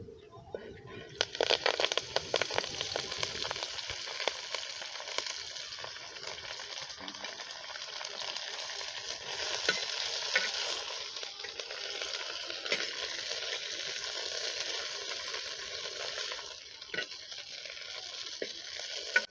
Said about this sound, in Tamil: இதுபோல் கொஞ்சமாக எண்ணெயை ஊற்றிட்டு நம்ம தழையை சேர்த்து வதக்கலாம்